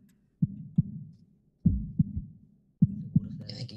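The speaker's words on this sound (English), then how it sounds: "I can hear only the heartbeat" A recorded heartbeat plays in an art installation: paired lub-dub thumps, three beats spaced about a second apart, low and booming against near silence, with a faint higher rustle at the end.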